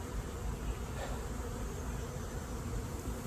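Honeybees buzzing around a newly installed hive in a new bee yard on a fine day, a constant dense hum of many insects heard outdoors at moderate level, with no talking.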